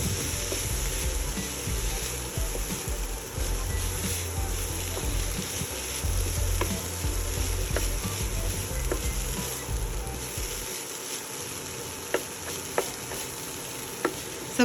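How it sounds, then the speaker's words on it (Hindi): Bread poha with vegetables being stirred in a hot pan, a steady sizzle with repeated scraping and clinking of a spatula, close and continuous, fading to quieter sizzling toward the end. "मिक्स करेंगे जी इसको बहुत ही अच्छे से"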